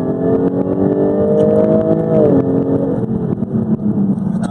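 Jaguar F-Type 400 Sport V6 engine revving steadily with a close, loud sustained drone, pitch dropping briefly as a paddle-shifted gear change cuts in before the revs settle and climb again.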